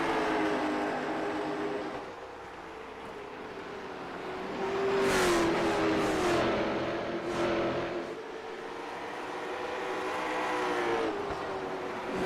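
Race cars in a sim racing video game at North Wilkesboro Speedway buzz past on the track, engines droning and swelling as they pass nearby, with a louder surge midway, fairly faint overall and no talking.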